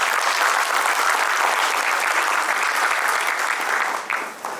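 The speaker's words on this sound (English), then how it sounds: "I think they deserve a bigger round of applause." A conference audience gives a sustained round of applause, dense and even throughout before tapering slightly at the end, with no speech over it.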